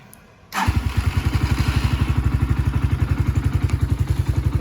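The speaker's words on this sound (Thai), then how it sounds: "โอเคครับเดี๋ยวเราลองสตาร์ทเครื่องเลย" A GPX Legend 200cc motorcycle with its stock exhaust fires up after a short cranking moment, then settles straight into a loud, steady, evenly pulsing idle close by.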